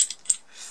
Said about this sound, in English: which is ratcheting like so in normal operation